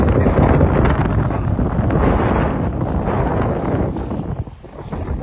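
Strong wind buffeting the microphone in heavy low rumbling gusts, steady and loud, easing briefly near the end.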